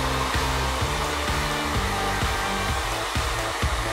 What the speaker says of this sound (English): Hair dryer time. This should speed things up.